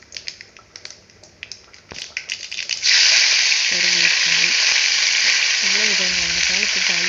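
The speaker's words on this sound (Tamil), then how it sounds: "கடுகு சேர்த்துக்கலாங்க" Mustard seeds in hot oil give scattered crackles and pops at first, then a sudden loud, continuous sizzle and spatter of frying, with a voice briefly speaking underneath.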